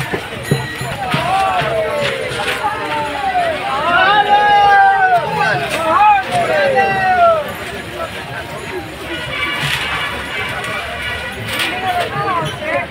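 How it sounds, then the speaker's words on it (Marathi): A large crowd of Warkari pilgrims walking toward Pandharpur in the rain: a steady outdoor babble of many voices and shuffling footsteps, with nearby people talking and occasional vehicle noise. "कशी गर्दी आहे बघा"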